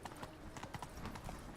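The horse Roach in The Witcher 3 walks on hard ground, a steady near clip-clop of hooves at an even walking rhythm, with faint game sounds underneath.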